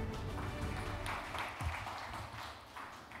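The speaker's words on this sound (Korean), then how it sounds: "박수로 맞아주시기 바랍니다" Faint, thin clapping from a seminar audience on carbon neutrality and energy policy, welcoming a speaker; soft and somewhat distant, with low background rumble.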